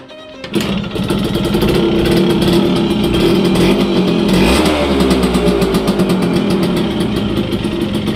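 A TMX motorcycle engine starts up and runs loud and close during a test drive, a rapid buzzing putter that rises and pulls harder midway, then settles back to a steady drone.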